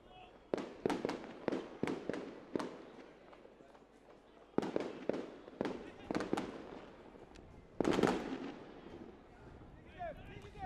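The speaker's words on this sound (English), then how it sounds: "We're getting some fireworks there." A rapid string of firework bangs crackles during a Caribbean club football match, dozens of sharp reports in quick irregular bursts with a bigger blast near the end, while a commentator talks over them.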